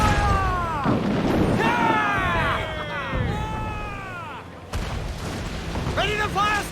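Pirate ship cannons fire a broadside in Assassin's Creed IV: Black Flag, a series of heavy booms and blasts rolling across the water while crew members shout orders over the barrage.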